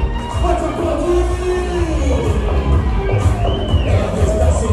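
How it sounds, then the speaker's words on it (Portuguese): A festival crowd at a harvest celebration roars with cheers and whoops for the departing festival queen, a steady dense hubbub of voices and shouts lasting throughout without a break. "Pode aplaudir!"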